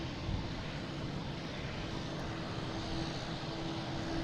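A Hainan Airlines airliner taxis behind the control tower at Boston Logan, a faint steady engine drone with a low rumble and a thin sustained whine, distant and alone.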